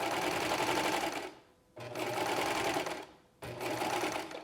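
A serger stitching a scallop rolled hem with a satin finish, running in three steady bursts with brief pauses between them, close and clear.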